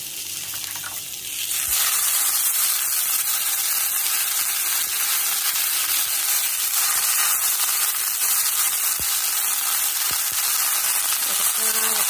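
Chopped methi (fenugreek) leaves sautéing in hot oil in a pan, a loud steady sizzle and hiss that bursts up after a quieter start and carries on unbroken, with a few faint knocks.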